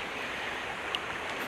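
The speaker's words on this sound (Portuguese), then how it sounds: "Ribeirão Cafezal, olha lá." The creek Ribeirão Cafezal flows with a soft, steady rushing hiss, fairly faint and continuous, with no voices over it.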